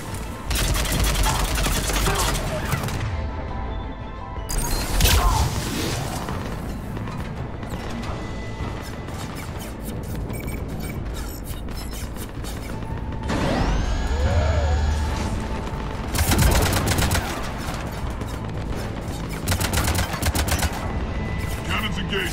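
Ship cannons firing in the sci-fi game Mass Effect 3, heavy rapid gunfire bursts and mechanical clanks with blasts and crashes, loud and continuous with voices speaking over the action.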